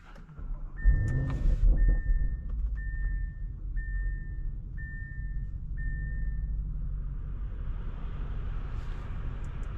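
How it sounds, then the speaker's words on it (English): A 2023 Audi SQ7 with a twin-turbocharged 4.0-litre V8 gives a low, steady engine rumble after a brief whirring start, while a series of evenly spaced chime tones rings over it. "Engine sounds pretty good."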